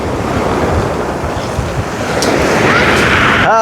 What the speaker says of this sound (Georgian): ამაგარი ღელვა კარგად მაგრად ამოდის წყალი